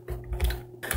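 Keys on a computer keyboard are tapped in a quick short burst as a password is typed, a few close, crisp clicks with no talking.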